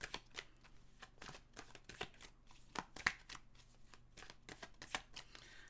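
A deck of tarot cards is shuffled close up, with repeated soft riffling bursts and taps in an uneven rhythm in a quiet room and no talking.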